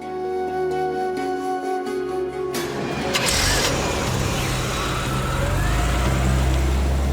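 A car engine rumbles steadily, then the sound shifts to a broader, noisier drone as the car pulls away and moves off, loud and close, with no talk.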